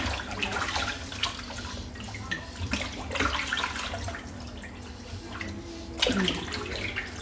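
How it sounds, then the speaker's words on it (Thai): Pork skin being rinsed in cold water for making crispy pork cracklings, a steady close splashing and running-water wash with bursts of sloshing, no talk. "เดี๋ยวเราเอาไปล้างน้ำเย็นนะคะเพื่อให้น้ำหมูมันสวยค่ะ"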